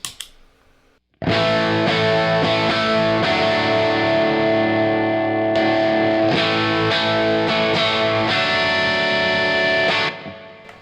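Electric guitar chords through a Wizard Crunch compressor pedal ring out loud and even, each strum sustained with a smooth, squeezed tone and no talking.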